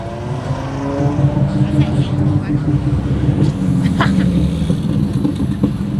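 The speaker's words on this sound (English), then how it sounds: "you can hear the turbos on that thing. Oh my god, it's a 600 LT" A McLaren 600LT turbocharged supercar passes at a cars and coffee meet, its engine a loud continuous rumble with faint turbo whistles, heard under excited crowd talk.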